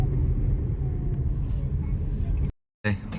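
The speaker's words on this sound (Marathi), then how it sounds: "फुल ट्रॅफिक" Heavy road traffic rumbles as a dense, continuous low roar close by, steady for over two seconds before a sudden cut to silence and a brief return.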